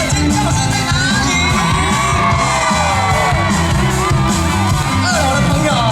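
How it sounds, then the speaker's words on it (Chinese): A concert crowd screams and cheers at an outdoor festival evening show in Wanluan, Pingtung, a dense, loud, continuous roar of voices with whoops and yells under amplified stage sound. "全场的尖叫声在哪里？"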